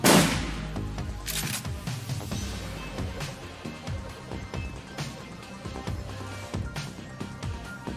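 Gunfire in the cyberpunk game Shadowrun Returns, opening with a loud blast followed by a run of sharp, repeated shots and impacts over several seconds, largely free of talk.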